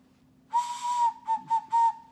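A homemade ocarina with its back end sealed whistles under a light blow: one sustained steady tone followed by three shorter toots, clear and close, with a faint low hum underneath.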